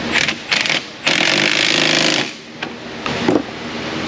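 A quarter-inch drive power tool tightens a bolt during a belt and idler pulley job in an auto repair shop, sounding as several loud, rattling bursts of roughly half a second to a second, separated by brief pauses.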